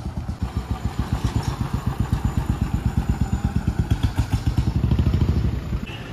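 A motorcycle engine runs close by on a hill-station road in Manali, a loud steady rapid thumping pulse that holds throughout with no talk over it.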